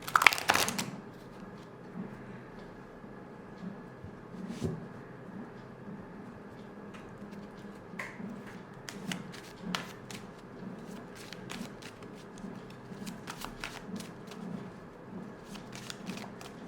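Tarot cards are shuffled close by in soft, repeated riffling bursts, with a louder flutter at the start and quiet gaps between.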